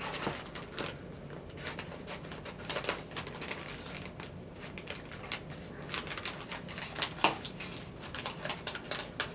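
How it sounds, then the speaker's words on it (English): Scissors snip through a plastic bait bag to cut out its label, a series of close, crisp irregular cuts and crinkles with short pauses between. "I take my scissors and I cut out the type of bait it is"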